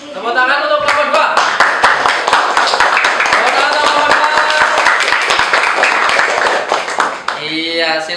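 A classroom group claps for the second student group: dense, steady hand clapping fills about seven seconds, with children's voices talking and calling over it throughout and brief speech at the start and end.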